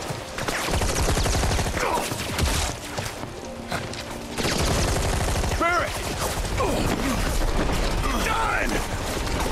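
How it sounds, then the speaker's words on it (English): Gunfire in the video game Final Fantasy VII Rebirth: loud bursts of rapid automatic shooting with sharp impacts and clatter, running nearly throughout as characters talk over the fire. "I'll wait till they stop shooting."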